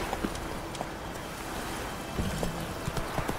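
Roach the horse's hooves clip-clop at a walk in The Witcher 3, a rhythmic run of soft hoof thuds over a steady game ambience.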